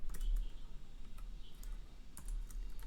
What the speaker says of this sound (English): I'm just going to type this week's focus